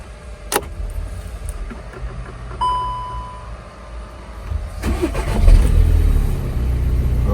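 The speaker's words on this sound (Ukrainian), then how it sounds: "Давайте заведемо." A used car's engine cranking and firing up during a purchase inspection, with a brief warning chime and then a rising idle rumble that settles into a steady run, close by and with no talking.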